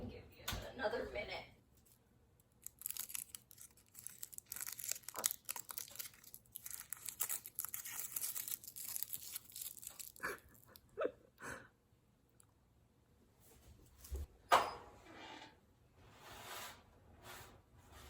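Small paper baking wrappers crinkle and tear in close, irregular bursts of rustling, with scattered louder rips, in a quiet home kitchen.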